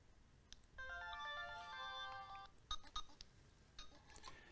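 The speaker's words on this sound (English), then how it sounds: "this sound indicates that the battery is nearly empty, so it needs to charge before we can actually use it" A Spectralink Nano cordless handset gives its low battery warning, a quick run of faint electronic melodic beeps followed by small clicks and clinks, quiet against background hiss.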